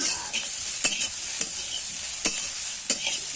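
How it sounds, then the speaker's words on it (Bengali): A spoon stirs Maggi noodles and their masala in a hot pan, scraping in several sharp, spaced strokes over a soft, continuous sizzle. "একদম ম্যাগির মশলাটা দিয়ে দিলাম একটু লাড়া সারা করাম"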